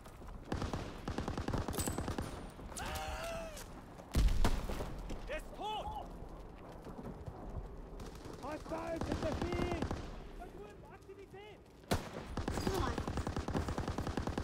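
Machine gun fire in Call of Duty WW2 rattles in loud sustained bursts over battle noise, with in-game voices and other shots mixed in throughout.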